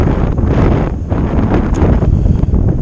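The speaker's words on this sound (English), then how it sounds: "Wind is swinging side to side." Wind buffets a microphone outdoors near a small tree, a steady, loud low rumble with gusty swells that never lets up.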